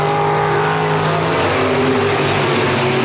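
Pure stock race cars racing at South Texas Speedway, a loud continuous engine roar with droning harmonics filling the whole stretch, no voices.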